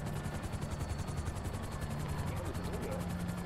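A helicopter in Grand Theft Auto Online drones with a steady rotor thrum and whine as it comes in to land, with someone talking over it.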